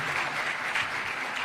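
An audience at a State House ceremony in Nairobi claps steadily for the President of Kenya, a dense, even wash of applause filling the room with no voices on top.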